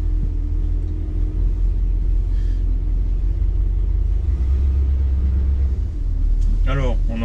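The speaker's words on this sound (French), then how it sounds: "on entend un moteur doux, silencieux" A 1968 Ford Galaxie 500 convertible with an automatic transmission cruises along, its engine a soft, steady low rumble beneath the interior, with a brief voice near the end.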